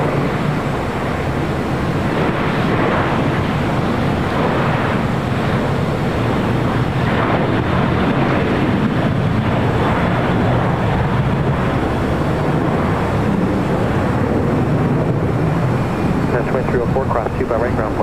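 An Air Canada Airbus A321 on the ground at LAX bound for Toronto, its jet engines a broad steady roar with wind buffeting the microphone, while talk runs over it throughout.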